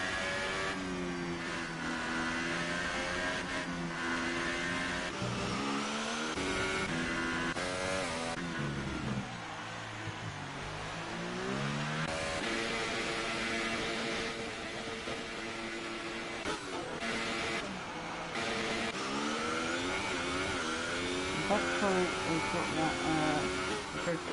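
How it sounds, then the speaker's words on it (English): A glitching F1 car in a racing video game revs hard over and over, its engine pitch sweeping up and down in a continuous wavering whine, while a commentator talks over it throughout. "Red has got that glitch where it's just him revving the hell out of the car."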